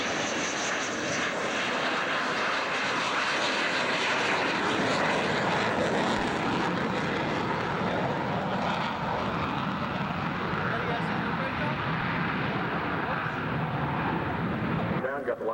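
Loud, steady roar of a fixed-wing aircraft engine at the 2003 Barnes Air National Guard Base airshow, sustained broadband noise throughout with a commentator's voice over the public address beneath it.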